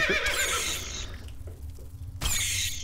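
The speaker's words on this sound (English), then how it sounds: "Somebody's horse is getting hit by a K-bug." A horse in a video game whinnies in a shrill, wavering burst, followed by a quieter gap with faint game sounds, then a second loud neigh near the end.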